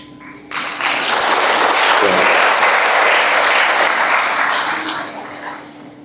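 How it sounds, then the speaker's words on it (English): A crowd at a graduation ceremony bursts into loud, sustained applause after a short pause, clapping steadily for several seconds and then slowly fading. "let's give him a round of applause"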